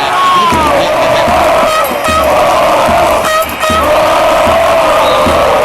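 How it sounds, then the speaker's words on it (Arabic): Football stadium crowd at a big Egyptian club match roaring and cheering loudly and continuously, a dense sustained wall of voices with chants and shouts rising through it. "الجماهير هتتجنن"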